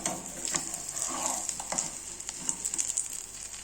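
Bread omelette with coriander flipped over and frying in a pan, a close crisp sizzle with light scraping and tapping of the spatula, steady throughout and no voices.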